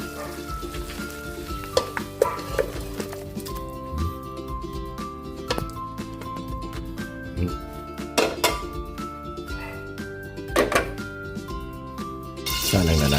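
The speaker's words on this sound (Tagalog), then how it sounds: "Check natin yung ating tinisang chicken." Chicken sautés in a pot for Filipino chicken tinola, giving a steady soft sizzle with occasional clanks of a utensil against the cookware.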